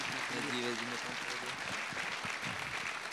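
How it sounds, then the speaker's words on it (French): An audience at a Sharing Lille event applauds the director of Aura Technologies, a steady wash of clapping that holds throughout, with a brief voice heard over it near the start. "je vous invite à applaudir Raouti Chehid"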